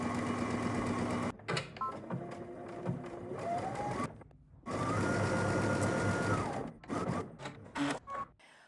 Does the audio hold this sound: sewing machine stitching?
yes